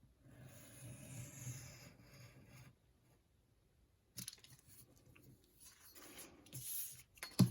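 Paper cut with scissors along traced lines for a punch board pillow box, soft close rasping snips in two bursts separated by a quiet pause.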